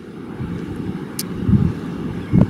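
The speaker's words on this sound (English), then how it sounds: "Damn, it's windy today" Steady low wind rumble against the microphone, with a couple of stronger gusts swelling near the middle and end.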